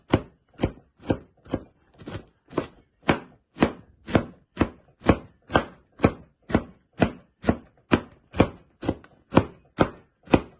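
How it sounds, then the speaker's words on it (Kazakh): A knife chops cabbage into thin strips for a radish salad, with about twenty crisp, evenly spaced strikes on a board in a steady, brisk rhythm, close and clear with no talking. "Мінекей қырыққабатымызда майдалап соломка қылып турап жатырмыз."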